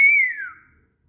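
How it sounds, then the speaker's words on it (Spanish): A single clear whistle from a person, held steady and then sliding downward in pitch before fading out, close and alone. "¿Cómo es que silbas?"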